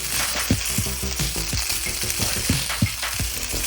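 Fried rice sizzles in a pan as it is flipped and stirred, a constant frying hiss broken by regular thumping scrapes of the rice being tossed, close and steady.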